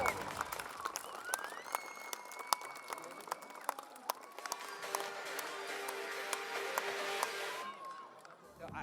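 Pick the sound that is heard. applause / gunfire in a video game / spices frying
applause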